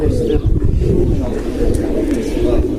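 Young pigeons coo in a loft, a low continuous murmur of soft cooing close by, with someone speaking over the birds.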